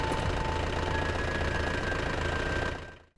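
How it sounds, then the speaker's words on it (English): A car engine in the video game Cold Front idles nearby with a steady, low knocking rumble and a faint whine, fading out at the very end. "Cars in Coldfront have running engines that you can hear when you get close enough."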